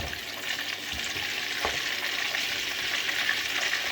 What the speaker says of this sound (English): I added the palm oil to my pan. It was frozen, so I needed it to melt. So to this, I'm going to add the salted fish and dawadawa.